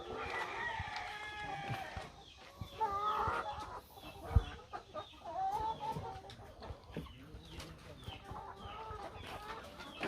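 Chickens, including a black Australorp, cluck and crow in breeding pens amid continuous farmyard chatter, with a soft voice talking underneath.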